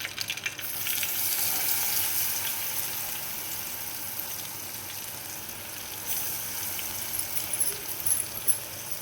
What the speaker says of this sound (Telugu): క్యారెట్, మామిడికాయ తురుము, ఉప్పు, కారం, అలాగే పసుపు, వెల్లిపాయ అన్నీ వేసి కలుపుకున్న మిశ్రమాన్ని తాలింపు వేసేయండి.